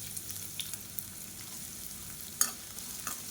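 Finely chopped onions go into hot oil for cauliflower pea rice, giving a quiet, steady sizzle with light stirring clicks and one sharper scrape of a spoon against the pan.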